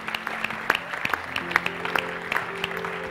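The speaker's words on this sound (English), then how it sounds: "Come on, let's give them a great clap." A church congregation claps, the crowd's applause coming as scattered, uneven hand claps rather than a dense roar, with a faint voice and low tones underneath.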